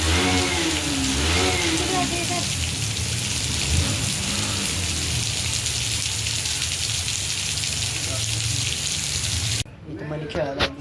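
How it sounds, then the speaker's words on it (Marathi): Heavy rain pours down in a dense, constant wash of noise on a rainy day, with brief voices near the start and after it eases at the end. "पाऊस किती भारी पडतोय"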